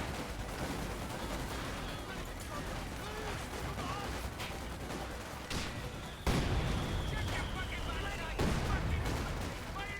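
Battle in Company of Heroes 2 with the British faction, where an anti-tank gun fires amid a dense, continuous barrage of loud gunfire and explosions, with sharper heavy blasts standing out near the middle and end.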